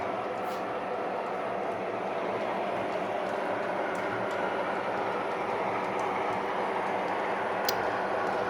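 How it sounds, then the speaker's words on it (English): A westbound train rumbles past close by on the main line, a steady broadband roar with a faint rhythmic rattle and no clear pauses. "It's been occupying the block and holding up the westbound train that's here on the main line."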